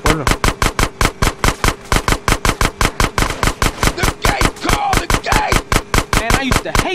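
Rapid automatic gunfire blasting at a gate in a Grand Theft Auto San Andreas sewer escape, a long, steady burst of loud, evenly spaced shots that runs the whole time, with no pauses.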